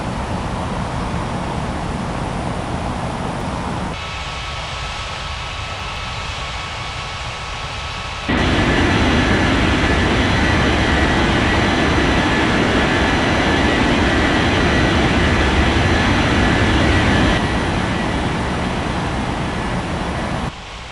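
Aircraft taking off at Spring Brook airport in a flight video game, a steady broadband roar that swells louder partway through and holds before easing slightly, with no voices.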